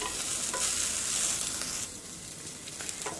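Coriander leaves frying in a pan give a loud, dense hiss and sizzle that holds steady, then eases slightly partway through, with faint scraping stirs and no talking.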